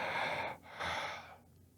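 A person imitates an intruder's heavy breathing with two long, breathy, hissing exhalations separated by a short pause, close and fairly quiet, then fading out.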